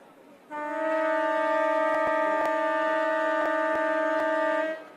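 A half-time siren at a SANFL football match between Port Adelaide and Norwood sounds as one loud, steady horn tone lasting about four seconds, with faint crowd noise around it.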